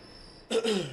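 A single short throat clearing with a rough cough-like edge breaks in after a quiet pause, close and fairly loud, then trails off.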